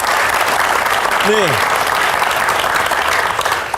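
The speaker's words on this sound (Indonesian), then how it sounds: "Tepuk tangan buat Zafran dulu dong." Loud, dense applause for a young child rolls on continuously, with a brief spoken word rising over the clapping partway through.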